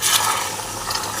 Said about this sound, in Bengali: গরম জলটা করেছিলাম, পরিমাণ মতন জল ঢেলে দিলাম